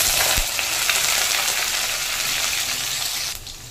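Potato pieces hit hot oil with tempered whole spices in a vegetarian vegetable dish, a loud, close, continuous sizzle that starts with a sharp thump and fades slightly as it settles.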